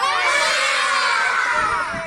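A group of schoolchildren shouts "ha" in unison during a classroom movement exercise, one loud, sustained collective yell at close range that fades slightly at the end.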